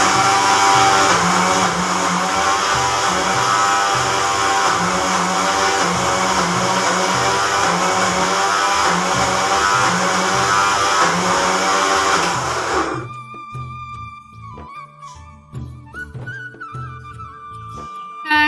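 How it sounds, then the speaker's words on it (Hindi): Kitchen mixer grinder whirring loudly as it grinds dal and masala, a steady pulsing motor drone that stops abruptly near the end, followed by quieter clatter. "तो इधर देखिए मैं पीस रही हूँ मसाला"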